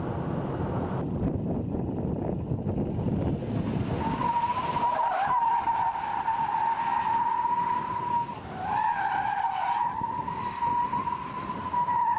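A Mercedes E-Class AMG with a 1.8 engine drives past, a steady droning hum that shifts in pitch as it accelerates, with wind rushing over the microphone.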